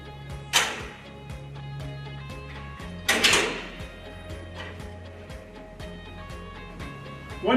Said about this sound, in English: it's time to replace the door.